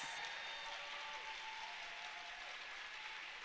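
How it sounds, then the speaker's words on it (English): A rousing round of applause from the audience at a school award ceremony, a steady wash of many hands clapping that is faint and distant and continues evenly throughout. "Let's give them a rousing round of applause."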